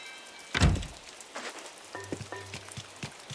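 Rain patters steadily on the ground in Animal Crossing: New Horizons, a soft continuous hiss with a sharp thump early on and a few short game tones toward the end.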